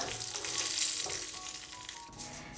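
Curry leaves and dried red chillies crackle and sizzle in hot oil for a tempering, a dense continuous frying hiss with small pops, fairly close and steady throughout.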